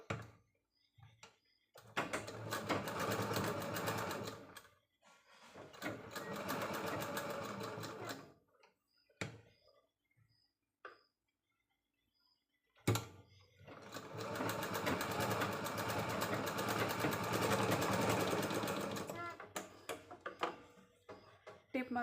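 A sewing machine stitching a blouse sleeve runs in three bursts of steady rapid stitching, close and loud, separated by quiet pauses with small clicks and handling noises.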